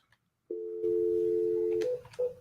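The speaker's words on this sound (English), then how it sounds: "placing phone calls over and over and over again." A telephone tone sounds as calls are placed repeatedly: a steady, clear tone holds for about a second and a half, then breaks into a couple of short tones with faint clicks, close and alone.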